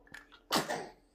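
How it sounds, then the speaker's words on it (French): A single sharp sneeze up close, onto a colouring pencil, preceded by a quick sharp intake of breath, then quiet. "T'es éternué sur mon crayon, t'es content?"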